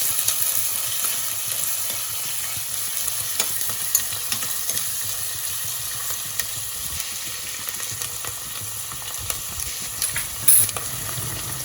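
Curry leaves frying in a pan for mutton curry give a steady, moderately loud sizzle with occasional stirring scrapes and no talking.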